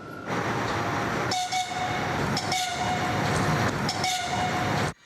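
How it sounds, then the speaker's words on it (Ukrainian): An evacuation train pulls into a station platform in Lviv during wartime, a loud continuous rumble of rail cars with rhythmic wheel clatter and brake squeals, ending abruptly. "На перон перебуває черговий евакуаційний потяг."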